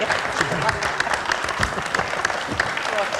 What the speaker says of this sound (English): Let's give the governor a round of applause here.